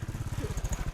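A motorcycle engine runs close by with a steady, rapid, throbbing pulse, loud and alone with no voices.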